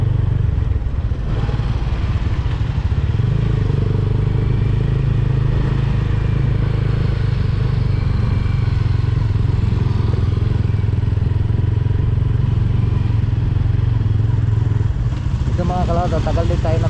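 A tricycle engine drones loudly and continuously while riding through heavy traffic in Dasmariñas, with rattling clatter over the low rumble and talk mixed in.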